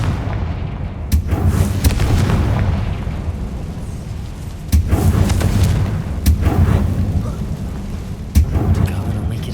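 Fiery Confringo spell blasts in the Hogwarts Legacy video game, with several loud booming explosions at intervals and rumbling crackle between them, no talking.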